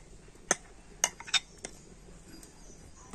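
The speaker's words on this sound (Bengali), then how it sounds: "আর আবারও আমি ঢাকা দিয়ে দেব" A lid set down onto a pan of semolina and sour-curd batter on the stove, a few sharp metallic clinks in quick succession, close and clear against a quiet background.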